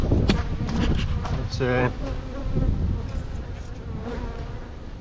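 Honey bees buzz in a dense, steady drone from an opened hive being built up for almond pollination, cold and slightly riled, close and loud throughout, with a brief spoken remark partway through.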